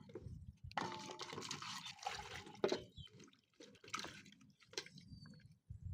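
Peeled vegetables are swished and rinsed in water in a home kitchen, with soft close splashing and dripping in irregular bursts and short quiet gaps.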